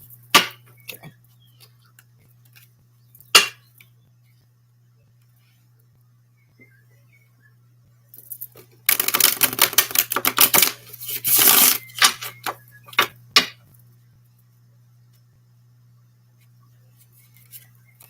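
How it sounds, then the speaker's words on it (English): Brisk bursts of tarot cards being shuffled and split, a flurry of riffling clicks and slaps lasting a few seconds, with a steady low hum and scattered soft taps around it. "Shuffle and split."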